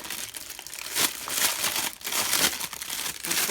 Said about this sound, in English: don't you love that crinkly noise?